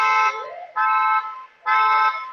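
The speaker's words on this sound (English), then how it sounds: "honking a lot in the background" A car horn honks repeatedly in the background, three sustained blasts separated by short gaps, steady and fairly loud with no talk over it.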